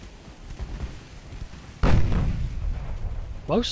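A warship in Ultimate Admiral: Dreadnoughts fires its naval guns with one heavy, sudden boom that rolls off slowly, among quieter distant firing, and a voice talks over the battle.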